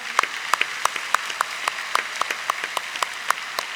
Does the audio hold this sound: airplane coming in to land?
no